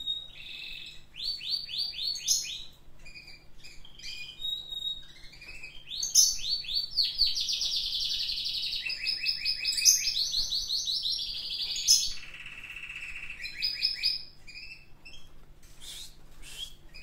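Small caged birds, a grey one and a green one, chirp and tweet continuously in busy, overlapping bursts, fairly close and loud throughout with no talking.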